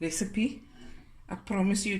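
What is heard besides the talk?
No everyday noise stands out behind the speech.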